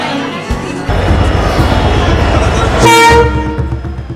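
A train rumbles loudly on the tracks at a local station in Jaipur, India, its horn sounding briefly in the middle before the rolling noise continues.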